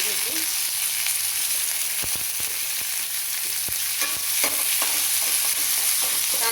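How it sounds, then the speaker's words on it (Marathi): Chopped onion sizzles steadily in hot oil seasoned with cumin and mustard seeds for soybean bhurji, a loud close hiss with occasional scraping clicks from stirring. "आता कांदा आपला भाजला आहे"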